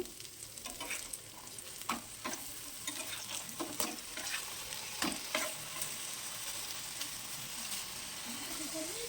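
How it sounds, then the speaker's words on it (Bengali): Chicken burger patties fry in a covered pan, giving a soft, continuous sizzle with scattered small crackles and pops throughout, fairly quiet and heard alone. "ভাজা হয়ে গিয়েছে, এগুলাকে এবার আমি তুলে নেব।"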